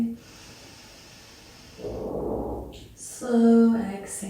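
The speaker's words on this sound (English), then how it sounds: "Inhale into your nose, breathing deep into the belly." A deep inhale through the nose during a yin yoga session for the hips, heard as a breathy rush of air that swells for about a second, with a voice speaking softly after it.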